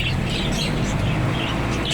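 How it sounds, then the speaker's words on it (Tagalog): Birds in a pet shop, African lovebirds and cockatiels, chirp faintly over a dense, steady indoor background hum, brief calls scattered through the noise. "Marami silang ibon. Uh, may African, tapos may kakatail,"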